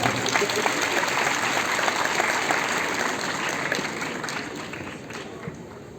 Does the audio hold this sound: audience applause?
yes